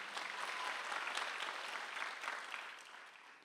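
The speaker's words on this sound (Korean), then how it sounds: "믿는 사람만 박수하세요" A congregation claps together during a Korean church Sunday worship service, a dense, soft wash of applause that carries steadily for a few seconds before tapering off.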